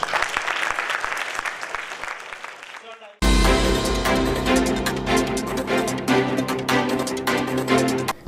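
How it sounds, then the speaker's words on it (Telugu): Mothers receive about three seconds of dense, fairly close applause from a crowd at a gathering, then it cuts abruptly to loud music. "మదర్స్ అందరికీ క్లాప్స్"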